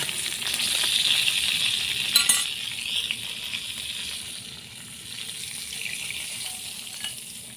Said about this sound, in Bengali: কাঁকড়া ভাজা হয়ে গেছে এখন নামিয়ে নিব